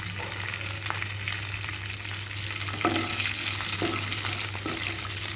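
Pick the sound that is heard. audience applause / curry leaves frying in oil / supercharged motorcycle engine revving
curry leaves frying in oil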